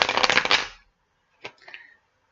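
Tarot cards are shuffled by hand, a dense riffling burst up close for under a second, then silence, then a softer brief tap and shuffle.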